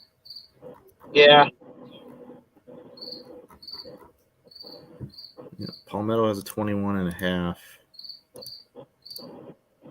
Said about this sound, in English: You got a cricket in your garage